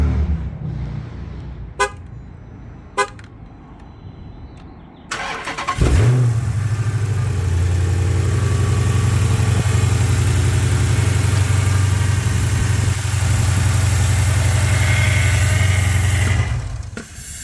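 A Chrysler car's engine cranks and fires up about six seconds in, then settles into a steady, loud idle that runs to the end, preceded by a few sharp clicks in a quiet garage.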